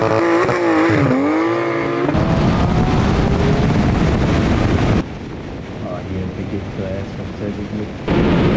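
A Porsche 992 GT3 RS and a Carrera GTS in a drag race roar loudly, one engine note rising and dipping near the start, then a sustained rushing drone of engine and wind noise that drops in level partway through.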